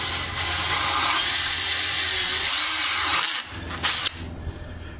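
A drill runs continuously, grinding through material up close, then slows and stops near the end with a few short bursts.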